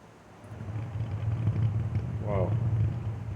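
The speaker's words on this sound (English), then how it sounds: "You hear the tire noise?" Tire hum from a car while driving, a steady low drone that holds throughout at moderate level, with a brief whirring rise partway through and faint background noise.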